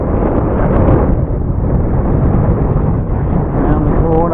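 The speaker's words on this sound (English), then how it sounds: "My word, the wind is strong." Strong gusting wind buffets the microphone outdoors while an RC plane flies, producing a loud, continuous low roar that swamps everything else for the whole stretch.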